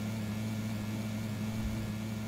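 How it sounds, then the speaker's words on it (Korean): A vehicle engine in PUBG (Battlegrounds) drones as a steady low hum, constant and even throughout, with no talk. "차 소리가 들린디?"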